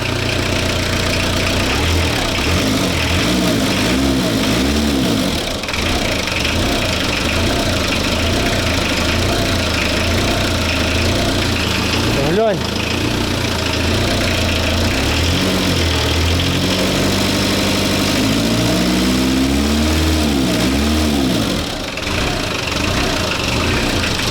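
A Volkswagen T3 van engine runs just after being replaced, idling loudly and continuously close by with a rough, uneven throb and some revving changes partway through.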